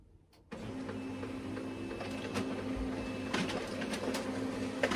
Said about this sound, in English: you'll hear my printer going probably here in a second